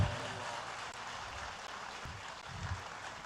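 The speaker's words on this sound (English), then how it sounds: "Great round of applause to you all." Faint, steady wash of crowd applause from an audience at a celebration-of-life memorial for MIKABEN, continuous and even throughout with no talk over it.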